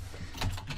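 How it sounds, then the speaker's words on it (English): Computer keyboard typing in a quiet room, a short run of soft, faint clicks with a slightly stronger keystroke near the middle, no voices. "Hopefully you get less clicky clack from my keyboard and such"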